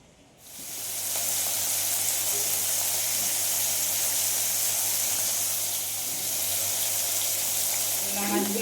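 Small fish fry in hot oil with a loud, even sizzle that swells up after a quiet first half-second and then holds steady and close with no voices, with a brief faint clink near the end.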